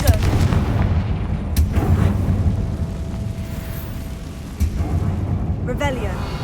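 A Confringo spell blast in Hogwarts Legacy, a deep rumbling boom with heavy low crackle sustained through most of the moment, loud and close, with a few sharper hits and someone speaking briefly.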